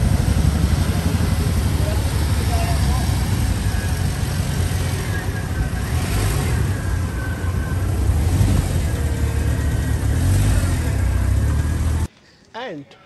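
A rental jeep drives along roads in Santorini, its engine droning loudly and steadily inside the cabin, with voices talking over it before the noise cuts off abruptly near the end.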